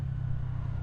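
A motorcycle engine runs at a steady, unchanging rev during a test ride, giving a continuous close low rumble with no rise or fall over the short stretch.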